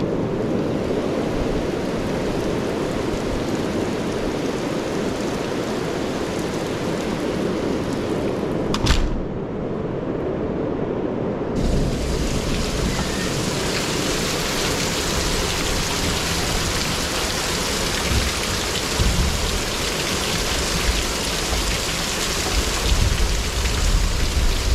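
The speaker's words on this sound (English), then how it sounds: "I don't know what the deal is with these big storms," Heavy storm rain hammers down in a dense, steady roar of drops on surfaces, loud and continuous, briefly dipping for a couple of seconds midway before the downpour resumes at full strength.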